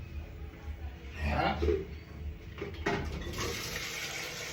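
Water poured in a home, a close, quiet splashing burst that settles into a steady trickle, with a voice talking nearby.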